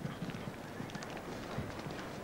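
Steady clip-clop of horse hooves during a show jumping round at an international teams trophy event at Wentworth Park in 1985, rhythmic footfalls over a constant crowd and ambient wash, with faint voices in the background.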